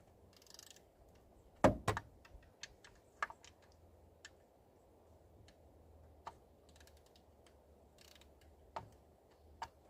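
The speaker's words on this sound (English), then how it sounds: "This is just a Harbor Freight ratchet." A long Harbor Freight ratchet clicks in scattered sharp bursts and single ticks in a quiet garage during work on the upper timing chain cover of an Audi Q5 2.0T.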